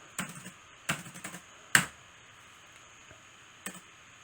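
An amount is typed on a computer keyboard as bookkeeping figures are entered: a few close, quiet clusters of key clicks separated by short pauses, with no talking.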